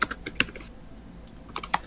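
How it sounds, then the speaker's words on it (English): Soft, scattered key taps from a computer keyboard during a tabletop game session, coming in uneven clusters with brief pauses between, fairly quiet and close. "I can hear the tapping of the keyboard"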